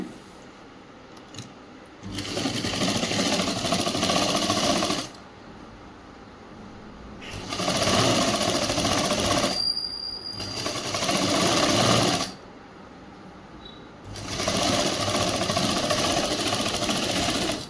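Electric sewing machine joining sleeves and bodice of a school uniform chudi top, three sustained runs of rapid whirring stitching, each several seconds long, with quiet pauses between them, close up.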